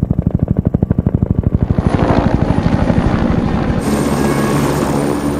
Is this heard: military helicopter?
yes